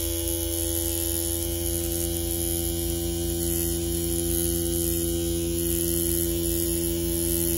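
A Mummy C1 tattoo machine pulls a line, its motor giving a steady electric hum with a fine regular pulse that runs unbroken and close throughout.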